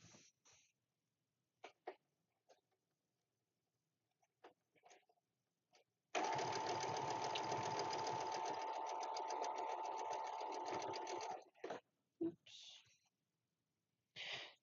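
Domestic sewing machine stitching large fabric pieces in a small home sewing space, running steadily for about five seconds, close and clear, with brief handling noises and short bits of sound before and after.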